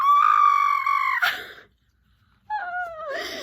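A voice imitates a scream, giving a long, loud, high sustained cry, a short pause, then a second wavering shriek that trails off, close and alone.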